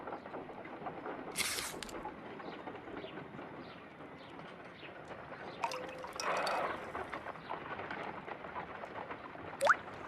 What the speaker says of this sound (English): I must take a pipette and place several drops of hydrogen peroxide.